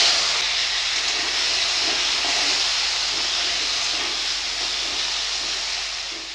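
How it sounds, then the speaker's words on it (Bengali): Potatoes frying in hot oil in a wok, a steady loud hiss of bubbling oil running evenly throughout, close and unbroken with no voices. "তেল গরম হয়ে গেছে, আলুগুলো ভেজে নেব"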